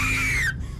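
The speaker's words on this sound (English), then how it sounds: "John, those ear-piercing screams. You know for a fact those are true screams by the way it sounds" A single high, piercing scream from a scary ghost video, loud and sustained before cutting off abruptly over background rumble.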